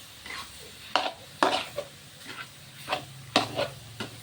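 Chicken is stir-fried in a hot pan: sharp scraping strokes of a utensil at irregular intervals over a soft, steady sizzle.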